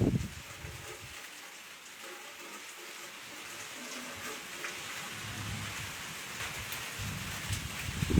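Steady rain patters into a home courtyard with pooled water during a summer thunderstorm, a continuous close hiss with low rumbling underneath and no talking.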